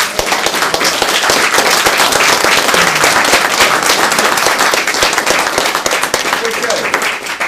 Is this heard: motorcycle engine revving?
no